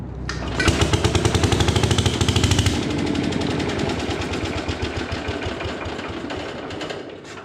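The small engine of a 1957 Gard'n Mast'r tractor cranks and catches with a fast, loud chugging beat for a couple of seconds, then sputters and runs rough before dying away.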